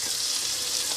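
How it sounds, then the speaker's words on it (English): Close, steady sizzling of food frying in a hot pan, a dense crackling hiss with no pauses or voices. "we'll just let them sizzle away"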